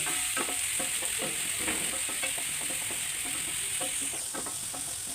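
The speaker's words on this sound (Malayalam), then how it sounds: "ഒന്ന് ഫ്ലെയിം ഫുള്ളി വെച്ച് കൊടുത്തെങ്കിൽ മാത്രമേ അതിൻ്റെ പെട്ടെന്നൊന്ന് ഇതൊന്ന് വഴണ്ട് വരത്തുള്ളൂ" Banana flower being sautéed on a high flame for Kerala thoran, a continuous dense sizzle with rhythmic stirring scrapes close up, no talk.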